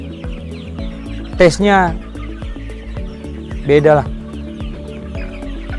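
Village chickens (ayam kampung) cluck in a farm setting, two loud, close, drawn-out bursts of squawking clucks over steady background clucking and farmyard noise, with someone speaking briefly.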